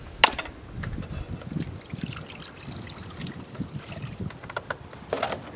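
Water trickles and splashes into an aluminum Dutch oven, a soft, uneven pour with small gurgling bursts close by in a quiet kitchen.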